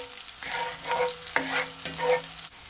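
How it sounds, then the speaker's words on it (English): Onion sautéing in a hot pan, a soft steady sizzle with a few spoon strokes scraping through it, close and alone. "first thing I'm gonna add is my onion. Just gonna allow it to saute for at least"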